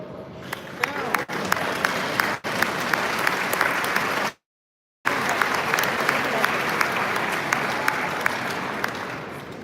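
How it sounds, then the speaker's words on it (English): An audience at a talk on social media content claps in a sustained burst of applause, with a brief cut to silence partway through before the clapping continues. "I do not know why you are clapping."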